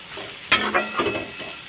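Slit green chillies hiss as they hit a pan of frying ginger and tomato, a sharp burst of sizzle followed by a few stirring scrapes, close and loud, with no voices.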